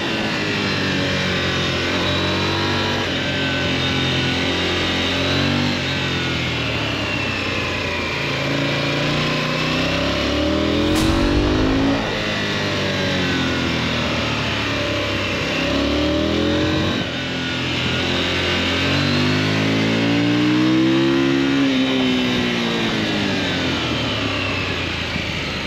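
A KTM 990 Duke motorcycle engine on a road test, droning steadily throughout with rising and falling revs as the bike accelerates and shifts, loud and close with continuous wind rush and no voices.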